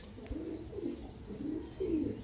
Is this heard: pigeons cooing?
yes